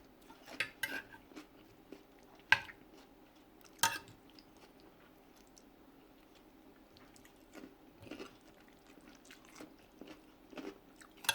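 Someone eats khanom jeen rice noodles with canned fish curry, with faint, scattered chewing and biting sounds and occasional sharp clinks of cutlery against a dish in a quiet room.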